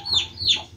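Chicks give two quick, high cheeping peeps in a row, close by and fairly loud, with a faint low background murmur.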